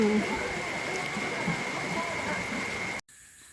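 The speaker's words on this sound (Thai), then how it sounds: "ฝนตกงามแรงพี่น้อง" Heavy rain pouring down in a dense, steady roar that fills the whole clip, cutting off abruptly at the end.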